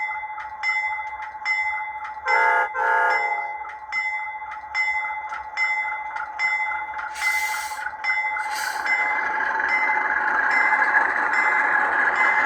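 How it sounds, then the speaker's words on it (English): A Rapido HO scale C36-7 Norfolk Southern #8539 model locomotive gives two quick horn blasts over a steadily ringing bell. The bell keeps clanging in an even rhythm, and a rising electronic engine drone swells near the end. "the horn blasts two blasts. As the bell rings, the ditch lights oscillate"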